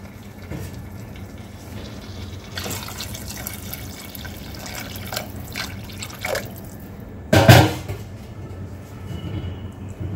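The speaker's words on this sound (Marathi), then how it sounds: "यामध्ये आता पाणी घालून घ्यायचं आपल्याला।" Water is poured into a pan of spiced drumstick (moringa pod) curry, a steady watery pour that runs through most of the clip with a louder splash near the end, and no talking.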